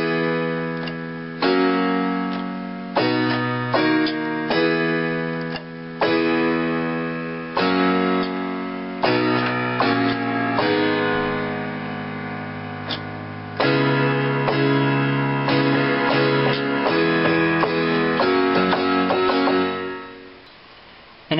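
A piano plays a chorus alone, chords struck in a steady rhythm with sustained ringing notes, fading out at the end.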